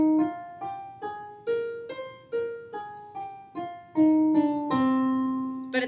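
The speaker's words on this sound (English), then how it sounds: "If I were to make it a minor scale, it would sound like this." Minor scale played one note at a time on a keyboard-like instrument, about a dozen evenly spaced plucked tones stepping upward, each decaying before the next, clear and solo at moderate volume.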